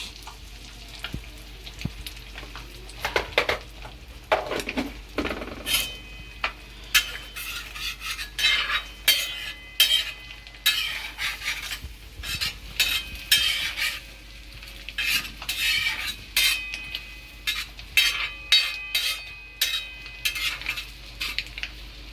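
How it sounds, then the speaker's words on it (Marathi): Eggs fry on a tawa with a soft sizzle and repeated bursts of metal utensil scraping and clinking against the pan, heard close and without talk. "नाही फक्त हलकेसे त्यांना फ्राय करून घ्यायचं आहे"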